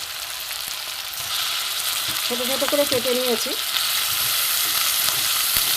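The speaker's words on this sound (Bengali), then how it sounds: "এবার আমি এই যে বোনলেস চিকেনগুলো আমি দিয়ে দেবো" Boneless chicken pieces, cut small, fry in a pan with already-fried tomato, onion and garlic, giving a steady close sizzle and hiss throughout while someone speaks briefly in the middle.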